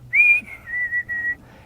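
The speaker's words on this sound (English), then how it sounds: "people whistle around me for some reason I can't figure out" A person whistles a short, bright tune, one rising note followed by several steady, clear tones in quick succession, close and alone.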